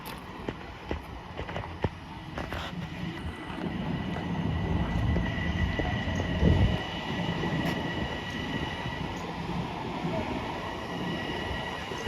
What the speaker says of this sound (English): but here goes the train.